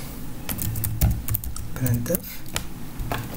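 Computer keyboard typing while entering C code, a steady run of quick clicks with a few louder keystrokes, close up, under a background voice talking throughout.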